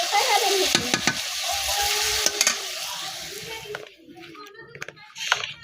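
Pui (Malabar spinach) bhaji frying and being stirred in a pan: a steady close sizzle for most of the clip, broken by spatula scrapes and clacks, then quieter with faint kitchen sounds near the end.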